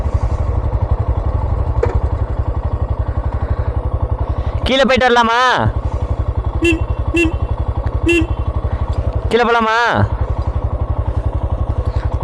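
A motorcycle idles on a mountain road in Ladakh with a close, steady low throb throughout. Voices speak over it twice, and a few short beeps sound in between.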